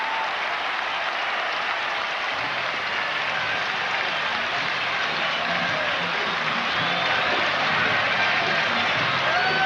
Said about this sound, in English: the crowd standing now and saluting John Franco